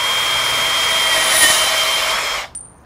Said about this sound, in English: And I'm going to take my bandsaw.